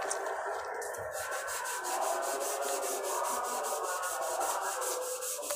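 Car body filler putty is sanded by hand in fast, even back-and-forth strokes, producing a steady rhythmic rasping that repeats about four times per second, close and continuous.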